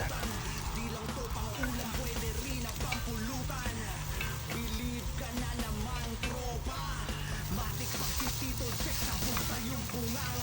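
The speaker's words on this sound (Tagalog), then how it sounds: "After ko malagyan ng mantika, gisahan na natin to ng bawang at sibuyas." Garlic and onion sautéing in oil in a stainless pan, a continuous bright sizzle with scraping and stirring, heard under someone talking throughout.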